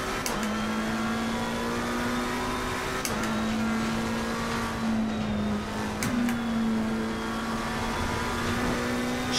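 McLaren race car engine in Assetto Corsa Competizione, loud and close, holding a steady high drone that dips briefly at each crisp gear shift, three shifts over several seconds.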